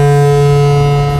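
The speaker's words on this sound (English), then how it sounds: "oscillators, which are bright, fuzzy sound generators" Minimoog synthesizer oscillators drone as one steady, bright and fuzzy tone, loud and unbroken with no talk.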